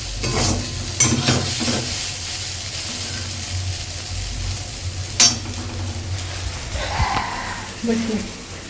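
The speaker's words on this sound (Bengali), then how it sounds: "আমি ভাজাটা বসিয়েছি" Vegetables fry in a pan with onion and garlic for a home-cooked meal, a steady close sizzle with stirring scrapes and clatters, while people talk over it.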